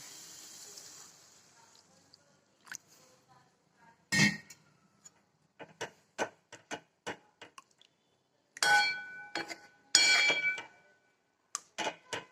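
A spoon stirs coconut kheer with sugar and milk in a pot, making sparse, irregular clinks and scrapes against the metal, some sharp and close, separated by quiet gaps.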